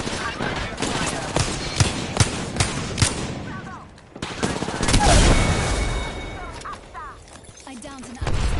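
Rapid gunfire in a squad video game, crackling in quick bursts with sharp reports over dense background noise, then a whooshing effect and scattered shots, with a voice speaking partway through.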